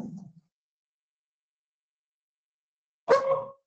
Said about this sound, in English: Apologies, I just want to mute my dogs for a second.